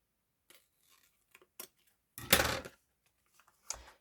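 Scissors cutting ribbon in a quiet room, a few faint clicks followed by one louder, longer cut and a final sharp snip.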